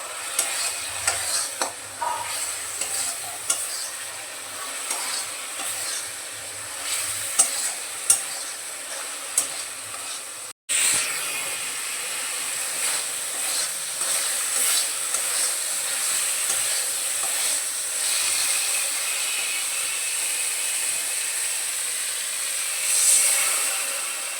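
Ground cumin, coriander, garam masala and turmeric fry in a pan for a fish curry, giving a continuous close sizzle and hiss with repeated scraping stirs and a brief gap partway through, with no voices.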